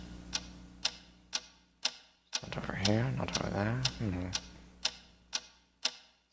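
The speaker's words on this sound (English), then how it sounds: "What is that mysterious ticking noise?" Steady clock-like ticking at an even pace, loud and close, keeps going under a brief stretch of sung voices in the middle.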